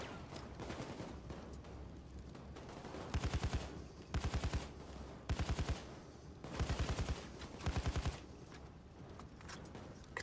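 Rapid automatic gunfire from the video game Payday 2, fired in five or six sharp bursts over a continuous game background hum, loud and close with short pauses between bursts.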